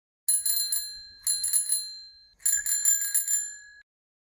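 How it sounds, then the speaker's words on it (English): A bicycle bell rung in three quick bursts, each a rapid trill of bright metallic rings, loud and close with silence between. "Where is the bicycle?"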